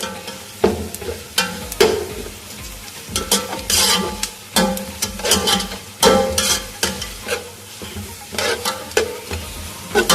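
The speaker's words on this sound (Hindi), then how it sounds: "इसको हमने अच्छे से फ्राई कर लेना है प्याज के साथ" Beef or mutton sizzles and fries with onions in a pot for pulao, with repeated scraping stirs and clattering spoon strokes over a steady sizzle.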